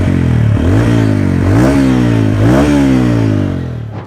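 Stock exhaust of a TVS Ronin motorcycle, Midnight Blue edition, revved close up in three or four sharp blips that rise and drop back, loud and deep, then fading at the end.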